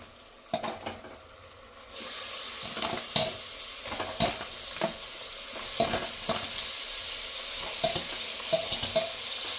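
Chicken pieces tipped into hot oil with ginger garlic paste in a pressure cooker, a loud burst of sizzling followed by repeated metal spoon scrapes and clanks against the pot, close and continuous without talk.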